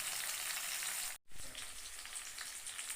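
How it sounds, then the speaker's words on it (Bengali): Eggplant fries in a pan with a steady, close hiss and crackle that cuts out for an instant before resuming. "একটু অপেক্ষা করি বেগুনটা একটু ভালো করে ভাজা হয়ে যায়"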